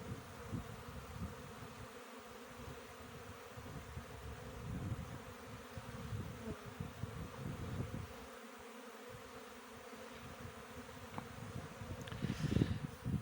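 A steady, dense buzzing of many honeybees on a winter cleansing flight near the hive, continuous and droning, with a faint low rumble underneath.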